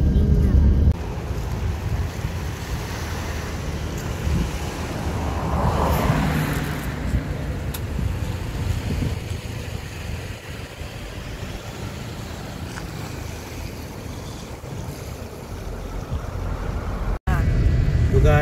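At a ferry port, continuous boat engine rumble and wave wash mix with heavy wind buffeting the microphone, loud and steady throughout.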